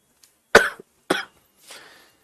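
Three short coughs, the first two sharp and close, the last softer and breathier, separated by brief pauses.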